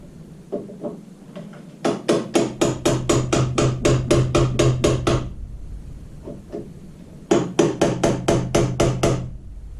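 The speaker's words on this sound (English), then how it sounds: "I'm just going to use me a little flat punch here and just barely tap it" Rapid runs of light metal taps from a small flat punch striking the ignition lock ring on a 2007 Arctic Cat 500 4x4 ATV, two bursts of quick evenly spaced hammer-like blows, close and fairly loud, with a few softer taps between.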